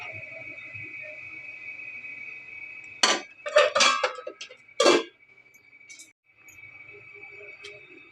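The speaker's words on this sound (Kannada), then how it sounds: "ಸ್ಟವ್ ಆಫ್ ಮಾಡಿ ಮುಚ್ಚಳ ಮುಚ್ತೀನಿ" A metal lid set down onto a cooking pot on a home kitchen stove after the burner is switched off, a few sharp clanging clinks in a short burst over a steady hum, with someone speaking quietly before it.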